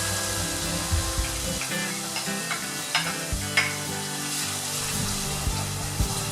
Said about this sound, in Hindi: अब इसमें हम हरा प्याज डाल देते हैं।